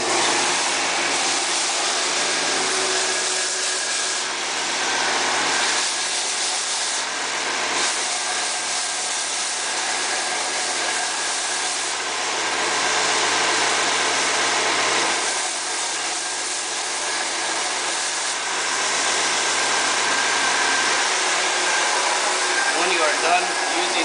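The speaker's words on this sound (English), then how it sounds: "Done using the belt sander, there is no longer a saw kerf on your board" A belt sander running steadily on a cedar slat, smoothing off the saw kerf along the board's edges; a continuous loud motor whine with sanding hiss that holds for the whole stretch.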